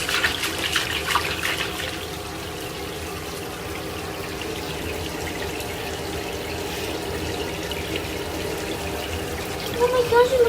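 Shower water runs steadily in a bathtub, spraying over a small pet bird, a continuous hiss and patter close by with a few faint chirps near the end.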